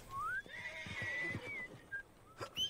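A horse in the Red Dead Redemption 2 video game gives one long rising and falling whinny, fairly clear and up close, followed by a few soft hoof clops and a short snort.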